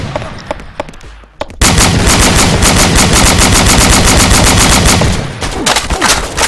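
Sustained automatic AK rifle fire in BrainBread 2, a loud, continuous rapid stream of shots lasting several seconds after a brief quieter lead-in, then tapering off.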